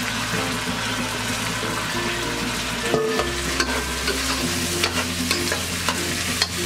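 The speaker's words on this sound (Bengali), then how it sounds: "পেঁয়াজটা ভাজা হয়ে গেছে, এখন আমি দিয়ে দেব চাল।" Half a kilo of rice goes into a pan of fried onions for white pulao, giving a loud scraping, rattling stir over steady sizzling, with scattered clicks and no talk.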